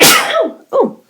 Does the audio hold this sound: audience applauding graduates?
no